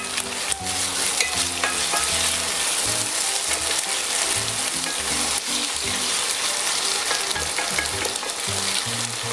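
Cep mushrooms sautéing in a pan, a steady close sizzle and crackle with scraping stirring strokes throughout, no voices.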